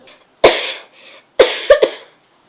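Two bursts of coughing, a single harsh cough followed a second later by a quick cluster of three, loud and close with short gaps of quiet between.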